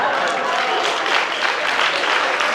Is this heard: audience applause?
yes